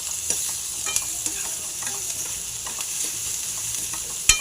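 Onions with turmeric and salt frying for cabbage curry, a loud, bright, continuous sizzle with light stirring scrapes and a sharp clack at the end, close and without talk.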